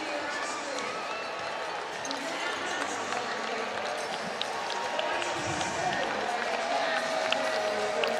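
Constant murmur of a large athletics stadium crowd waiting before a women's high jump attempt at the European Athletics Championships in Birmingham, a broad even hum with faint scattered claps, under a commentator's voice.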